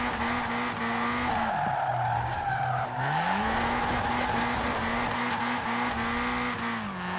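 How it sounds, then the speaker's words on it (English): Toyota AE86 Trueno Enjuku Racing Edition drifting in Forza Horizon 4, a steady loud engine drone with pitch dips and rises as the revs change, layered with continuous tire squeal. "I need to get used to the slower drift like this"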